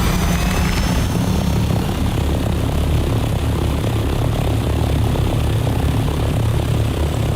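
An ornithopter in the video game Dune Awakening starts up and flies, giving a loud, steady propeller-like engine drone with rotor throb that holds constant throughout, no voices over it.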